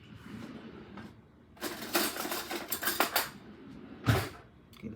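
Metal spoon scraping and scooping the seeds out of the core of a halved papaya, a cluster of clinking, scraping strokes in the middle and one sharper knock near the end, close and moderately loud with no talk.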